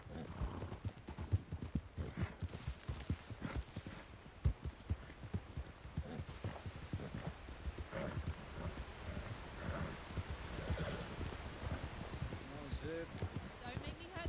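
Rapid hoof clip-clops from a horse in the WildRP role-play game, steady and close, with talking over them throughout.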